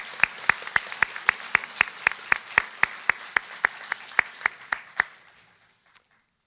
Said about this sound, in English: Another round of applause for Kylie, please.